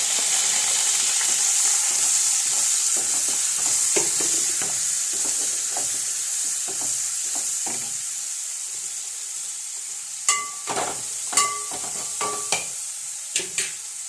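Onion sizzles with mustard seeds in a hot pan, a steady close frying hiss broken by scraping stirs and clinks of a utensil against the pan, the sizzle easing slightly toward the end.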